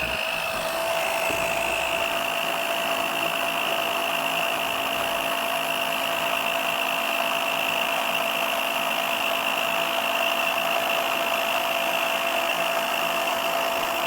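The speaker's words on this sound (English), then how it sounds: "We're pumping the fuel back out of here" A pump draws fuel out of a Moto Parilla motorcycle with a steady, close mechanical hum and whine that runs unbroken throughout.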